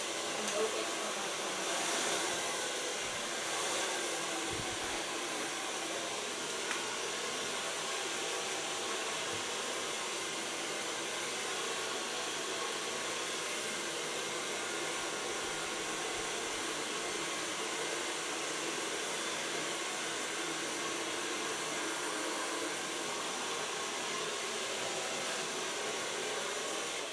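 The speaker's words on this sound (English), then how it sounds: "So far blow drying." A hair dryer blows steadily on hair, a loud, unbroken airy roar lasting throughout with little variation.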